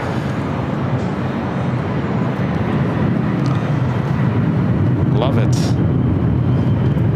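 A Lufthansa Boeing 747 jumbo jet crossing over at LAX makes a loud, broad, steady rumble close by, with brief talk over it.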